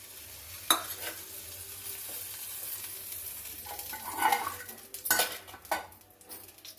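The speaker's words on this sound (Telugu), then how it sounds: "మూడు స్పూన్లు నూనె వేసి కాగినాక తాలింపు గింజలు అన్నీ వేసుకుంటే" About three spoons of hot oil sizzle softly in a pan with tempering seeds while a spoon clinks and scrapes against metal a few times, close by, without voices.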